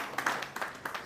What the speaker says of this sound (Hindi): जोर से ताली बजाकर प्रभु की महिमा करें।